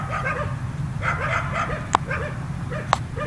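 Dogs in Northern Vietnam bark and yip in the morning, a string of quick, moderately loud calls with a couple of sharp, louder yelps.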